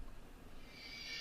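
A reversed, pitched-down Roland 909 crash cymbal sample swells upward as a soft, breathy shimmer that grows steadily louder toward its cut-off end, faint and alone.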